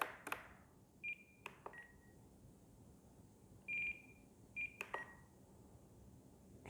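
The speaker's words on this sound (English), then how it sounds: "Receiver is rebooting. That's why you hear the beeping." An RC receiver for an FMS ASW-17 glider beeps as it reboots during radio setup, giving several short faint electronic tones spaced irregularly, with a few soft clicks between them.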